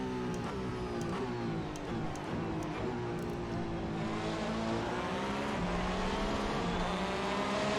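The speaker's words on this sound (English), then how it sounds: "That Porsche is so loud" A Porsche Le Mans hypercar engine wails loudly at a racetrack, with a sustained high-pitched roar whose pitch climbs and dips through gear changes while other race cars scream in the background, continuous and fairly close.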